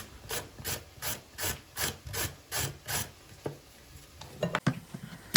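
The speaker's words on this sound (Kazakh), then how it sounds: "Ендігі кезекте сәбізді осылай теркадан өткізіп аламыз." Carrots rubbed against a kitchen grater for a stuffed pepper dish, a regular run of about eight rasping strokes in even rhythm, close and clear, ending in a few quicker, irregular scrapes and knocks.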